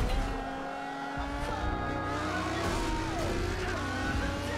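A car drifts in an online racing video game, its engine droning steadily while the tires squeal and skid through a corner in a continuous, loud sweep.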